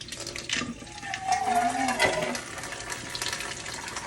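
Tap water runs and pours into a vessel nearby, a steady broadband splash lasting the whole stretch with a brief gurgling rise in the middle, no talking.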